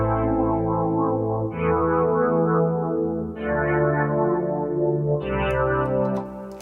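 A lush synth pad from the Harmless synth in FL Studio, with a harmonic mask adding upper harmonics, plays four sustained chords in turn, each swelling smoothly into the next, loud and alone.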